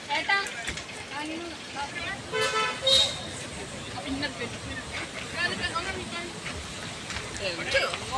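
Road traffic in Attappadi during the busy Onam season, with vehicles passing nearby, engines rising and fading, a short horn toot, and people talking in the background.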